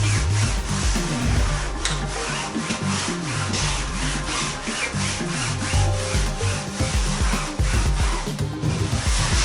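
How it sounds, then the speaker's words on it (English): A damp sponge rubs canvas filler into the canvas of a wooden canoe, giving steady, close scrubbing strokes in a repeating back-and-forth rhythm with no voices. "it's damp enough that it will thin down the filler so that I can rub it into the canvas"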